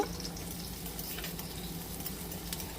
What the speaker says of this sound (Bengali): এগুলোকে একটু লাল লাল করে ভেজে নেব